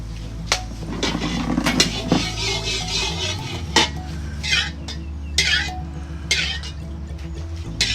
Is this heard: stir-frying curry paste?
yes